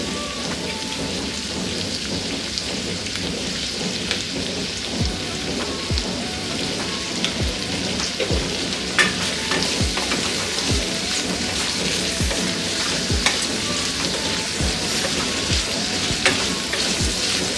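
Onions, salted and stirred in a pan, fry with a dense, steady crackling sizzle that runs unbroken throughout, with scattered sharper pops and no voices.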